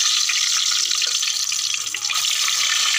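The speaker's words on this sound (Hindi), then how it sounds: "चले इसको फ्राई करेंगे तेल में।" Eggs and potatoes frying in oil at a village cooking spot, giving a steady, loud sizzling hiss that carries evenly through the whole moment.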